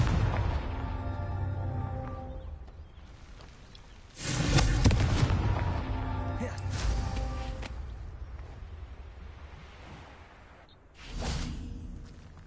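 Confringo fire spells burst in Hogwarts Legacy, with two loud broadband blasts whooshing out over a steady game background, the first around the middle and a second shorter one near the end.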